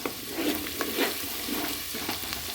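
Ginger and garlic sizzle in hot oil during tempering for a bhaji meal, a constant loud frying hiss broken by several soft stirring scrapes, close and without voices.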